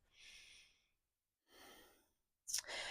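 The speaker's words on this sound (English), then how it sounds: "Take a big breath." Slow, deep breaths during a yoga quad stretch: two soft airy exhalations separated by silence, then a sharper, louder breath at the end, close and alone.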